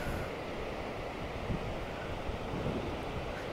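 Atlantic surf rolling onto a beach at high tide in Portugal, a steady broadband wash of waves with wind noise buffeting the microphone throughout, with no voices.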